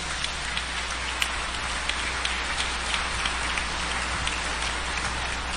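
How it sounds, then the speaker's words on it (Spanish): Congregation at an episcopal ordination and canonical installation giving sustained applause, a soft, even wash of many hands clapping at a distance, steady throughout with no voices over it. "Fuerte el aplauso para él"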